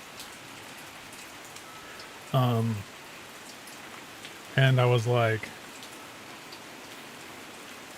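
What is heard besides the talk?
rain during a thunderstorm, field recording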